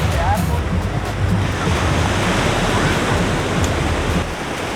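Ocean surf rolls in at a beach in Sayulita, Mexico, where surfers wait in the water, making a loud, steady broadband roar with some wind buffeting and a slight drop in level at the end.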